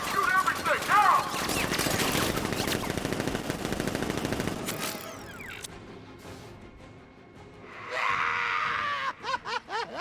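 Rapid automatic gunfire from militia in Batman: Arkham Knight rattles in loud sustained bursts, then breaks off into scattered single shots and sharp effects, with shouting voices mixed in.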